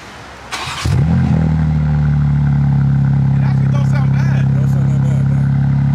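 A BMW M4 G82 fitted with a new AWE exhaust, still with four catalytic converters and resonators, cranks and fires up at close range, settling into a loud, steady deep idle that drones on without a break.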